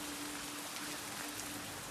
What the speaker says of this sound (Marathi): या ठिकाणी बघू आता पाऊस चालू आहे.